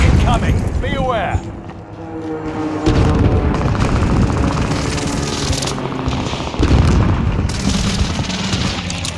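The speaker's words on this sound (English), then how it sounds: "Allied precision airstrike incoming." Heavy airstrike explosions in a military shooter video game, a dense barrage of loud booms and rumbling blasts that roll on continuously, with game voice callouts heard over the bombardment.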